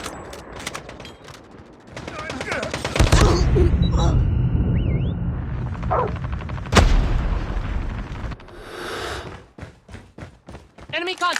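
Close-range Kilo bolt-action rifle fire in a Call of Duty multiplayer match, sharp loud cracks with booming tails amid other battlefield gunfire and explosions, along with game voice callouts.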